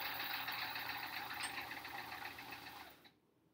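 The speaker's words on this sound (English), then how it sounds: "I think my machine's eating my triangle a little" A home sewing machine stitching hourglass quilt block triangles runs in a steady, close whirring drone that gradually fades, then stops abruptly near the end.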